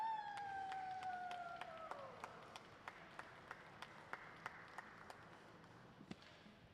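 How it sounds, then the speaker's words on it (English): A small group at a glassblowing hot shop claps sparsely and quietly after a fading siren-like whine, the scattered hand claps spaced out and faint. "Let's give them a big round of applause for all their hard work"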